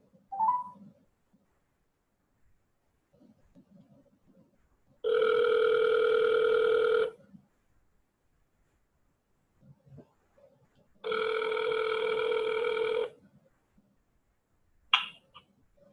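A telephone rings twice for an incoming call, each electronic ring lasting about two seconds with a long silent gap between, close and clear, with a few faint clicks and rustles around them.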